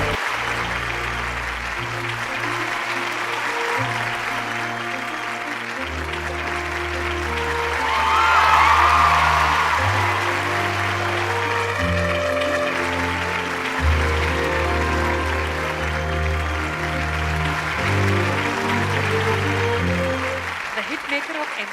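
Audience at an awards ceremony bursting into applause as an actress is called to the stage, a sustained dense clapping under loud music, with an announcer's voice over it.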